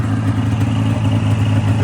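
A Polaris 550 RMK snowmobile engine idles close by, with a loud, steady, low throbbing rumble throughout.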